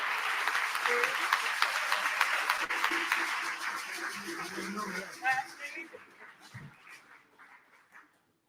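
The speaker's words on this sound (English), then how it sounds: "Please, one more round of applause for Reverend Sharpton." An audience at an awards event honoring Malcolm X applauds for a Vanguard Award honoree, a dense burst of clapping that fades over about five seconds. Scattered claps and voices follow as the room quiets.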